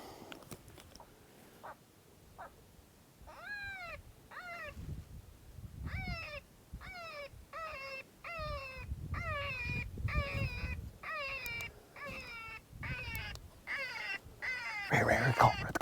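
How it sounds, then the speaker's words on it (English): An electronic predator call plays prey distress cries and yipping coyote pup distress sounds outdoors on a Nevada coyote hunt. The repeated whining, descending cries come in a rapid series at moderate distance over faint background noise. "I'm gonna crank some different prey distress sounds the first half, and then go into some pup fights,"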